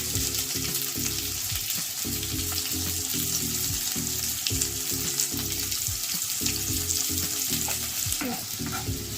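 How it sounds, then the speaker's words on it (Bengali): Chopped onion sizzles in hot oil in a pan for chicken tehari, a steady close frying hiss with repeated scraping stirs, and no voices. "এই পেঁয়াজটাকে তো আমি ভাজছি, একটু হালকা ব্রাউন হবে ততক্ষণ একটু ভাজবো"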